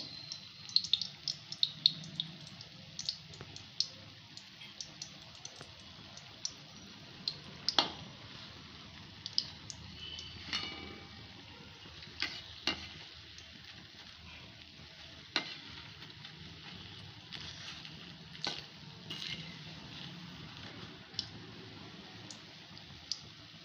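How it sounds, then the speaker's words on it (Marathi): Alu vadi, colocasia-leaf rolls, deep frying in oil until crisp: a soft, steady sizzle with frequent sharp pops and crackles, heard close but fairly quiet and with no talking. "चांगलं खरपूस तळून घ्यायचं"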